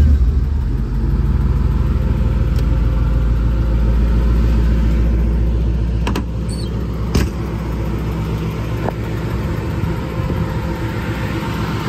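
A 1956 Oldsmobile 88 convertible engine runs at a steady idle close by, a deep, even rumble with a faint mechanical hum and no voices.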